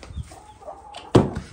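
Chickens at a farmyard give soft clucks, then one louder squawk near the end, short and fairly close against quiet background.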